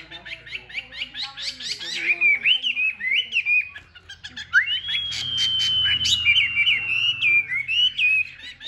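A Tam hoàng songbird, a yellow-legged, yellow-billed cage bird, sings loud, close whistled phrases, with rapid chirping at first, then long sliding warbles and trills running almost continuously, over faint low background noise.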